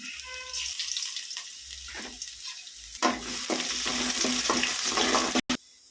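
Crushed garlic drops into hot oil in a pan and starts to sizzle, the crackling frying rising louder midway with stirring scrapes and a faint splash of water nearby.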